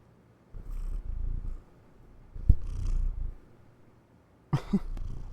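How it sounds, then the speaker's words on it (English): A pet cat purrs up close in a low, rumbling, continuous drone that rises and fades in several bursts, with short quiet gaps between them and a brief sharp sound near the end. "I heard a purr."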